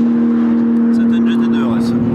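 A Porsche 911 GT2 RS goes by at a car-enthusiast tire-burning event, its engine a steady strong drone with rising tones toward the end, while people talk nearby.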